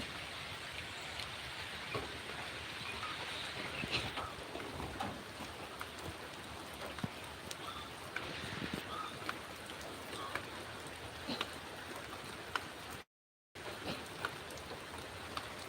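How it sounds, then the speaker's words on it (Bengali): Rain falls outdoors in a village while someone walks through it, a steady, dense hiss of drops that continues without a break apart from a brief dropout near the end. "বৃষ্টিতে হাঁটতে আসি"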